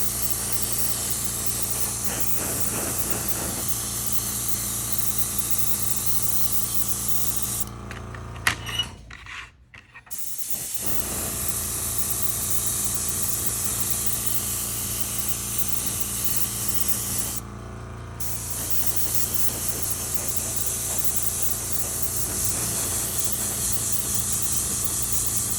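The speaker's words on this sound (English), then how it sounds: "Got a good spray." Aerosol spray can laying a flat clear coat onto a painted Star Wars Armada Republic Acclamator miniature, a steady close hiss running continuously with two brief pauses.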